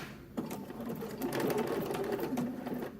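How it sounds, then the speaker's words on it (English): A sewing machine runs a zigzag stitch along satin cut on the bias for a slip, giving a close, steady mechanical whirr with rhythmic needle clatter that lasts throughout. "so I'm sewing on the right side. That's the stitch that I'm doing"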